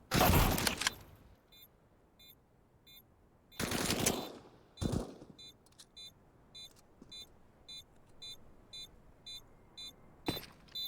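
Gunfire in a Counter-Strike match on the Dust2 map during a pistol-heavy round with an AUG rifle: a loud burst at the start, another near four seconds, then sharper single shots, over a steady background of repeating beeps, with no talk.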